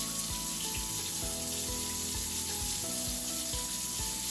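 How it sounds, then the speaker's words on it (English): Water runs steadily from a tap while hands are washed, a constant close hiss that continues throughout beneath rhythmic background music. "But first, we always have to wash our hands."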